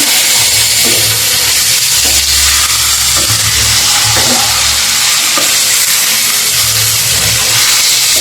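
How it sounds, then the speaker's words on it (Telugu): Turmeric being stirred into beef curry in a hot pan, with a loud, continuous sizzle and frying hiss and the rhythmic scrape of a spoon moving through the mixture. "ఇప్పుడు పసుపు వేసిన తర్వాత ఇలా కలుపుదాము"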